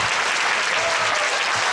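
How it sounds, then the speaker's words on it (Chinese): An audience at a live pop song-release concert applauds warmly, steady dense clapping filling the hall without a break. "拍手一下"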